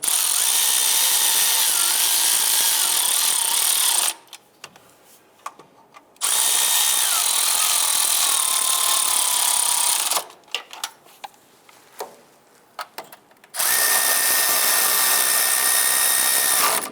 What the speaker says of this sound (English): We're going to use our 10mm socket to go ahead and run those down.